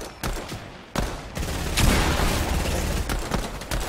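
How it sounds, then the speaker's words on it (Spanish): Gunfire in the video game Fortnite rattles in loud, dense bursts of rapid shots layered over booming impacts, continuous through most of the moment with no talk. "Un disparo."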